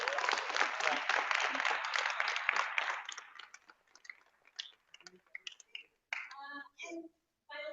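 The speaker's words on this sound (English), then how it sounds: "Final cheer for all of you guys." An audience claps and cheers for the winning teams at a hackathon, a dense burst of applause that fades out after a few seconds, followed by scattered claps and a voice speaking nearby.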